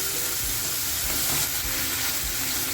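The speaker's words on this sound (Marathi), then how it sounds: "मसाला ना आपल्याला छान असा फ्राय करून घ्यायचा आहे" A ground masala for clam curry fries in a hot pan, giving a dense continuous sizzle and hiss with faint stirring scrapes.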